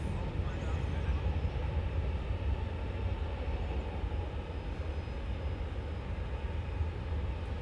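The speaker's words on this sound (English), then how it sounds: "It really landed way far down there on the runway" A jet airliner rumbles through a long, steady landing roll on a DFW Airport runway, a broad continuous roar heard from a distance with no break across the clip.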